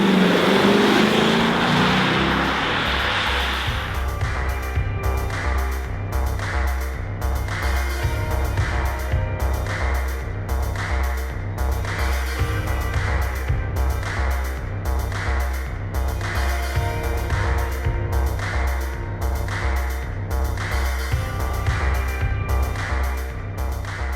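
Lexus LC 500 convertible with its classic engine while driving, a deep steady exhaust drone with a pulsing rhythmic throb, loud and sustained throughout after a brief whooshing start.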